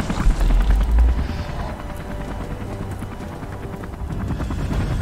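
A helicopter in the video game Beyond Two Souls, its rotor chopping in a fast pulsing rhythm amid heavy low rumble, loud at first and then settling into a steady thrum.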